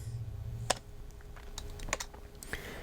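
A few separate keystrokes tapped on a computer keyboard, entering room dimensions while drawing a house plan, quiet and close with short pauses between clicks.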